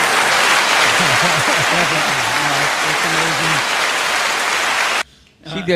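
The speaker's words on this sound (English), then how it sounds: "She deserves too much applause" Applause rings out from an audience on a Tampa–St. Pete sports show honoring King High School's girls state champion, a loud steady wash of clapping with someone talking over it before it cuts off near the end.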